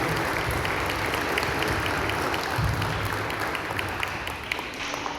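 A church congregation applauds steadily with dense, continuous clapping that holds at a strong level for several seconds.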